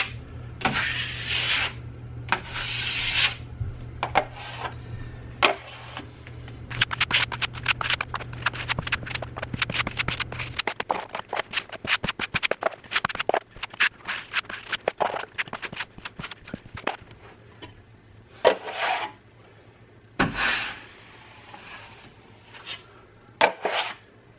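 A final thin coat of drywall compound being spread on a wall: soft, rhythmic scraping and rubbing strokes of a knife, close and quiet, with short pauses between passes.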